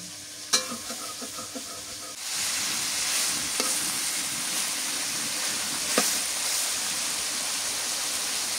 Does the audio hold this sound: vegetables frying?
yes